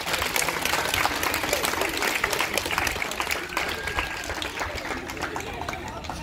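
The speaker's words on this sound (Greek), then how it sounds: "Ένα χειροκρότημα στο 10ο." A hall of children and adults applauds a school at a school championship awards ceremony in Katerini, a dense crowd clapping that is loud at first and thins gradually over several seconds.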